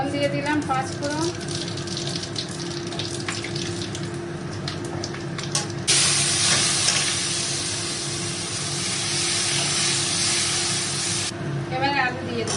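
Five-spice tempering hits hot oil and sizzles loudly in a steady hiss for several seconds, with softer frying before and after while a person talks.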